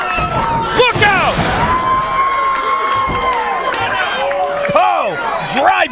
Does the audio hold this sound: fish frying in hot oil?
no